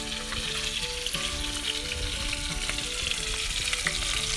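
Trout sizzles and crackles in a frying pan, a constant loud bubbling hiss with small pops and a faint tonal hum beneath, heard close and without voices.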